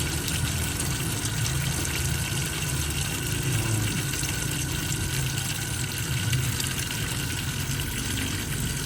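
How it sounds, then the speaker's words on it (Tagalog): Water runs steadily into a container for watering plants in a garden, a continuous loud gushing fill with a dense hiss and low rumble, close and unbroken throughout. "Ayan, lagyan po natin ng tubig."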